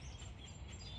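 Grackles chirp outdoors in a steady, dense chorus of overlapping calls at moderate volume, set against a constant low background rumble, with no voices over them.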